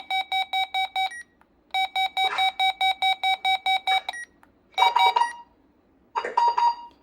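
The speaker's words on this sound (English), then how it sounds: "Apparently the 2004 can do its test beep" A RadioShack 12-254 scanner radio plays its test beep, a bright electronic tone pulsed rapidly in bursts of short beeps separated by brief pauses, close and clear against near silence.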